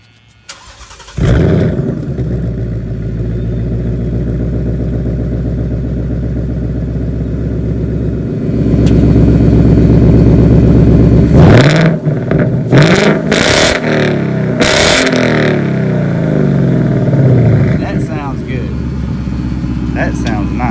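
A 2019 Ford Mustang S550 GT with the PP2 package, six-speed manual and quad exhaust tips, starts up loud and close, then idles with a deep rumble and is blipped in several sharp revs, with people talking over it.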